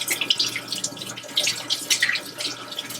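Tap water at about 70 degrees runs steadily over frozen shrimp, rinsing off a heavy ice glaze, a continuous close splashing hiss with small drips and no talk.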